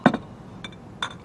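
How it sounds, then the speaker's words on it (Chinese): Glasses clink together in a toast, a sharp chink followed by two lighter taps a moment apart, close and alone with no talk. "我们就为宋西湖的死来干杯"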